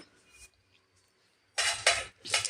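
Rice flour dough for ariselu is mixed with sesame in a pot: a few faint scrapes and taps, then after a pause bursts of loud metallic clinking and scraping of a utensil against the pot.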